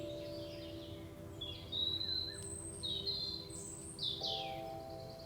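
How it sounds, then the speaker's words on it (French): Several short bird chirps and calls ring out over a steady low hum and quiet outdoor background, with a few brighter tweets toward the end. "du chant des oiseaux, du bruit des feuilles dans le vent"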